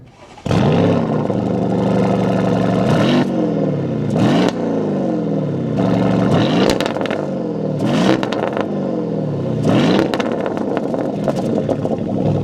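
A 2026 Porsche Cayenne GTS engine fires up and revs repeatedly, each loud swell of the throttle rising and falling over a steady idle, heard close up with no talking.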